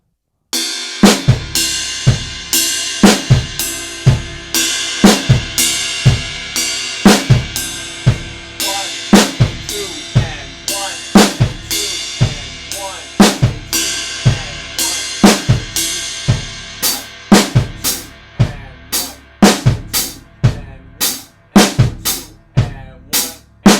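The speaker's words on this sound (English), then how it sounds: "the ride, you want to hit it with the top side of the stick right here, laying down flat on the cymbal, on the bow of the cymbal" A drum kit plays a songo beat with the stick laid flat on the bow of the ride cymbal, steady bright ride strokes over syncopated kick and snare accents, loud and continuous for over twenty seconds, no talking.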